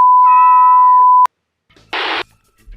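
A cartoon cat in an anime meows once, high and clear, after a steady electronic tone cuts off. A short burst of noise follows.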